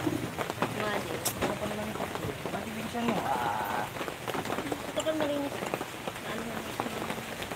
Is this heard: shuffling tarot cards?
no